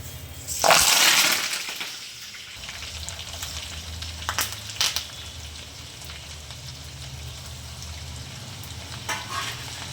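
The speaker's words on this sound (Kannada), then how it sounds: "ನೋಡಿ ಫ್ರೆಂಡ್ಸ್, ಎಣ್ಣೆ ಕಾದಿದೆ. ಈ ಒಗ್ಗರಣೆಗೆ ತೊಗೊಂಡಿರೋಂಥ ಎಲ್ಲ ಐಟಮು ಒಟ್ಟಿಗೆ ಹಾಕೊಂಡ್ಬಿಡ್ತೀನಿ" Whole tempering spices tipped all at once into hot oil for a tamarind chutney burst into a loud, crackling sizzle that peaks early, then settles into a steady, softer frying hiss with occasional pops and stirring clinks.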